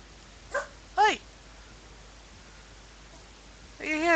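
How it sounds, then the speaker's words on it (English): Dog barking at home, heard as two short separate barks early on and a longer whiny, yelping bark at the end, moderately close over a quiet background hum. "That's my goddamn dog for you."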